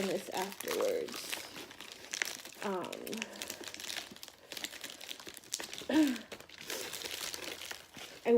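Plastic packaging crinkles and crunches in intermittent bursts as a lavalier microphone is unboxed, with a voice talking over parts of the handling.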